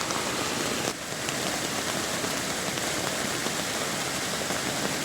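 Rain falls in a steady, dense hiss on surfaces all around, continuous and fairly close, with a brief dip near the start but no pauses.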